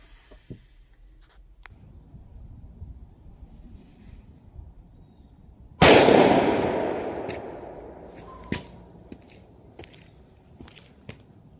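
A single sharp gunshot from a Winchester .357 Magnum Silvertip round cracks at an outdoor range, its loud report decaying over a couple of seconds amid otherwise quiet surroundings with a few faint clicks.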